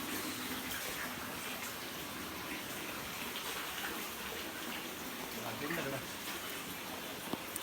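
Water flowing out from inside a mountain at a temple makes a continuous gushing, splashing wash that stays fairly steady and moderately loud throughout.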